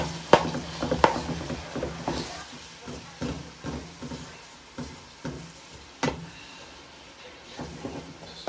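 Onions fry in a pan for pepper steak, a low steady sizzle with soft scraping stirs and occasional clacks of a utensil against the pan.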